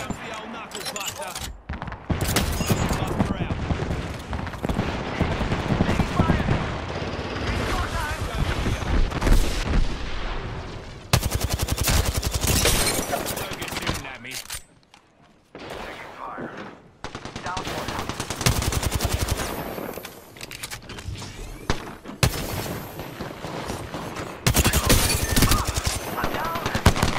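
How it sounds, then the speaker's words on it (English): Rapid automatic gunfire from an Apex Legends arena match, loud and dense in sustained bursts with brief lulls, broken by sharp bangs and booms across the whole stretch, with a voice talking in places. "Getting shot."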